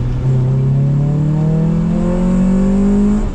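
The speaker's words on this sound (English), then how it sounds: "Did you hear the VTEC kicking?" A 1997 Honda Prelude Si-R, right-hand drive, revving hard on a wet road, its engine note climbing steadily and loudly in a sustained pull with no talking.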